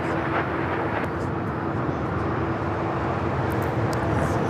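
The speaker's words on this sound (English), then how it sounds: "Here we have the LA-28 Olympics livery with Delta Flight 7 taking off to Tokyo Haneda" A Delta Airbus A350-900 in LA-28 Olympics livery taking off from LAX for Tokyo Haneda, a steady loud jet roar with broad rumble that persists throughout.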